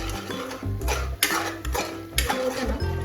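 A spoon stirring masala into a mushroom gravy in a pan, with repeated close metallic scrapes and clinks against the pan in an uneven rhythm.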